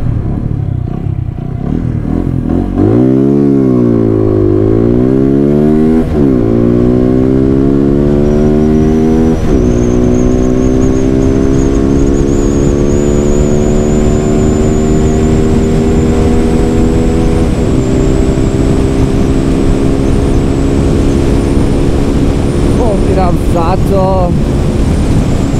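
A TVS Apache 200 motorcycle accelerates hard along an empty road, its engine winding up through several gear changes with brief dips between shifts, then holding a loud, steady high-speed drone close to the listener.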